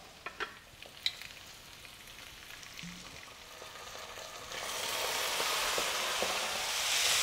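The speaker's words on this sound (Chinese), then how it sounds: "沙茶酱炒香了，加入一汤匙的蚝油和一汤匙的米酒" Sacha sauce stir-fried with oyster sauce and rice wine in a pan for a no-deep-fry casserole fish head, a steady sizzle and scraping stir that builds louder and denser in the second half, no voices.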